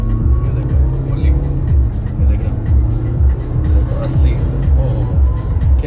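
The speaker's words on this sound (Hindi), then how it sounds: "तो अब मैं थोड़ी सी इसे पंप करके आपको दिखाता हूँ कि कैसे भागती है।" A Jaguar F-Pace SUV in sport mode accelerates with a loud, close engine drone and a rising rumble. Someone talks over the engine noise throughout.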